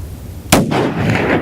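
A single sharp hunting rifle shot cracks loud and close outdoors, followed by a rumbling echo that rolls on for about a second.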